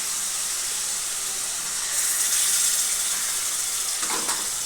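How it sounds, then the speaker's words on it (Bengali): Tomato paste and onion paste frying together in hot oil for a pabda fish curry, giving a steady, moderate hiss that swells slightly partway through. "এর মধ্যে এবার টমেটো বাটাটা দিয়ে দেবো।"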